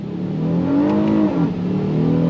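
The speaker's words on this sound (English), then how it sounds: "I'm gonna use the paddles to do this on throttle." A 2025 Honda Odyssey Elite minivan accelerates hard on throttle with traction control off and paddle-shifted gears. The engine drone climbs loud and close, dips briefly at a quick upshift, then pulls again, with no talking.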